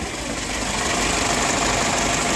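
A steady, dense engine rumble runs unbroken throughout, like a car motor idling close by after a loose injector bolt was tightened, with no voices.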